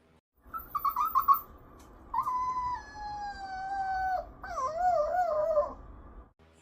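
A small dog howls in a series of wavering, rising and falling notes, with short yips at first and then longer drawn-out howls, clear and fairly close.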